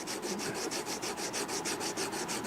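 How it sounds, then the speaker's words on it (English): Sandpaper rubs back and forth over the pin terminals of a Dodge Shelby Charger GLHS gauge cluster circuit board, a steady rhythmic rasping of about a dozen even strokes, close and continuous. "I'm just going to take sandpaper. I'm just going to clean up all these terminals on both sides"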